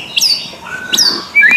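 Loud, close bird song: bright whistled phrases and sharp chirps in quick bursts with short gaps between them, sung by a white-rumped shama.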